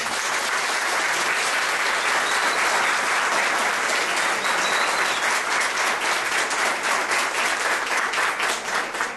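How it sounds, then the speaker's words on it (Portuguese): Loud, dense, continuous applause from a lecture audience at an annual talk of the Grupo Científico Ramatís, many hands clapping steadily throughout with no voices rising above it. "Eu pediria uma palma uma salva de palmas para ele"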